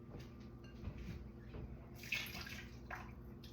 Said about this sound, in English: rinse it off again in some of the water you're gonna soak it